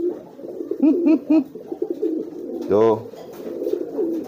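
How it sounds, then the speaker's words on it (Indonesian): A racing pigeon cooing loudly, with a few close burbling coos repeated in a rhythmic run, alongside a brief spoken word. "Dia kan bekur-bekur."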